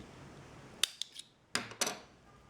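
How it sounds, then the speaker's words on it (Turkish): Scissors snipping through yarn during a knitting or crochet project, giving a few short, crisp metallic snips in close succession in an otherwise quiet room. "Şimdi ipimi kesiyorum."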